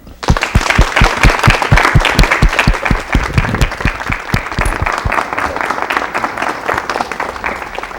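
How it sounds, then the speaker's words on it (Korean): Studio audience applause welcoming a guest on a KBS television talk show, starting with a few strong rhythmic claps that merge into a loud, sustained ovation before gradually easing. "박수로 맞이해 주십시오."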